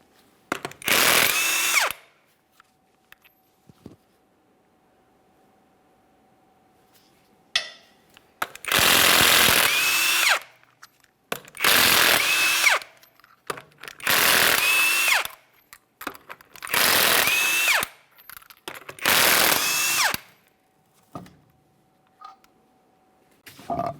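A power impact tool fires in repeated loud bursts of a second or two while 22mm lug nuts come off a GMC Acadia rear wheel, with quiet gaps and small clicks between bursts.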